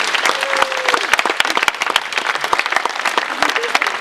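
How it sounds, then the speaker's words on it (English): Applause breaks out at a Thurrock Lifestyle Solutions AGM celebrating ten years, a crowd clapping loudly with many distinct sharp claps, sustained and fairly close, with a voice briefly heard over it. "I think that deserves a round of applause."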